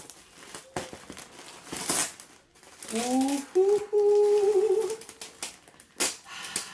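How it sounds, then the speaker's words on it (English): Plastic bags holding yarn are handled and trimmed open. Close, intermittent crinkles and rustles come in uneven bursts, with a short humming tone in the middle. "very careful with these bags not to accidentally trim into anything that should not be trimmed into"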